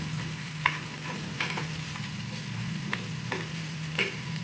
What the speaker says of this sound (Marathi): कांदा, कांदा शिजवून घेणार थोडा.